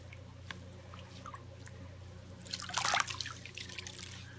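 Water splashing and trickling into a shaving bowl over a soap puck, with scattered drips early on and a louder burst of pouring and wet churning midway, fairly close and alone.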